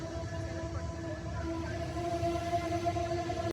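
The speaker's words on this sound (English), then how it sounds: "सो एक Amtrak train अभी आके जस्ट लगी है" An Amtrak train at a station, a steady loud rumble with sustained tonal hum lasting throughout, close by, no talking.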